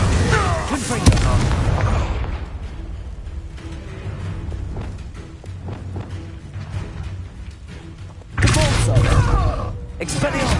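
Confringo fire spell explosions in the video game Hogwarts Legacy: loud booming blasts, one big burst at the start and another toward the end, with rumbling battle noise in between.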